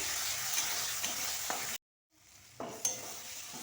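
Spice masala fries in oil for a broccoli curry, a soft steady sizzle with a few stirring clicks, cutting to near-silence briefly before the frying resumes.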